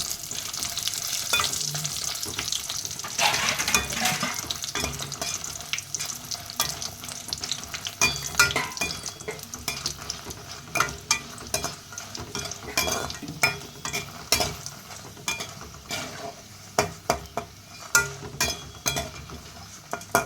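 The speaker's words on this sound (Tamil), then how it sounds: "காஞ்ச மிளகாய் போட்டு நல்லா பொன்னிறமாக வறுத்துக்கலாம்" Dried red chillies fry steadily in hot oil in a home kitchen pan, a continuous crackling sizzle broken by frequent sharp clinks and scrapes of a spoon against the metal, with no voices.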